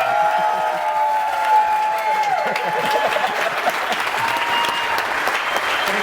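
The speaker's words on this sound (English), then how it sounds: "Let's have one last big round of applause for Travis and Mel before they leave the stage" A live studio audience under a tent gives a big, steady round of clapping and light cheering for performers leaving the stage, loud and sustained throughout.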